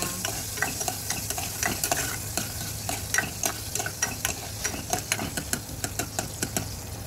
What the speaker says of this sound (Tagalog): Igisa na natin ang ating palaman sa ating beef buns.